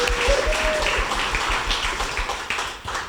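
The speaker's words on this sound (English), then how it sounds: "if you could just give her an applause" Audience applause at a 25th anniversary celebration, a steady spatter of clapping from a crowd with a faint sustained tone and some low thumps beneath it.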